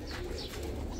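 A Kalsera teddy pigeon cooing steadily while held in someone's hand, close and continuous over a low, dense background murmur.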